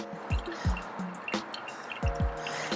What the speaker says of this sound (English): I'm pouring in a circular motion to make sure that all of the coffee is saturated.